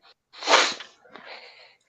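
A single sneeze close to the mic, a sharp loud burst followed by a short breathy tail, in an otherwise quiet room.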